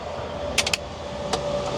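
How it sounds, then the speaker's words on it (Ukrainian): A heater fan runs inside the cab of a Jinma 504 tractor, giving a steady close airy whoosh with a few brief clicks over it. "Печка, вентилятор, ну, клімат, все працює все як має бути."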